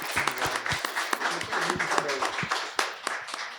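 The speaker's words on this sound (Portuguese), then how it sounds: "vou pedir mais uma salva de palmas para essa mesa" Audience applauding a discussion panel at a public debate marking thirty years since the Zumbi march, a dense steady wash of many hands clapping with a few sharper individual claps and faint voices underneath.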